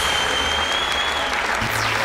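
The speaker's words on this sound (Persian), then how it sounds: "بازم شما را تشویق کرد بخاطر از اینکه بازی ها را خوبتر انجام بدین" A game show studio audience applauds the contestants, a dense, loud burst of continuous clapping filling the whole moment, with a faint tone running underneath.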